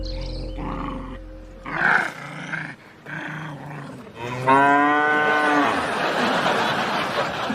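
A cow lets out several deep, drawn-out moos and groaning bellows, the last long and loud, heard close with no talk over it.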